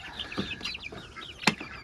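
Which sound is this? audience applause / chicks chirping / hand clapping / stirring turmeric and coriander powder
chicks chirping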